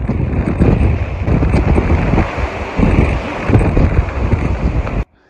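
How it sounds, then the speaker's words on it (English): Heavy wind buffets the microphone in loud, roaring gusts that rise and fall, then cut off abruptly near the end. "I had to stop filming yesterday because it was so windy."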